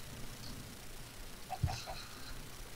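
A chicken in the video game Minecraft gives a few short, faint clucks in quick succession midway through, over a low steady background hum.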